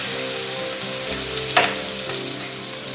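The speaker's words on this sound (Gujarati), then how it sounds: "આદુ મરચાં નાખીશું આદુ મરચાં નાખી" Ginger and chillies frying in a pan with curry leaves, a steady loud sizzle throughout with a few brief stirring scrapes and clinks.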